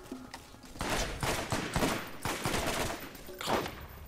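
Rapid bursts of gunfire from the video game Borderlands, loud and close, firing in repeated volleys with short gaps over roughly four seconds, no talking.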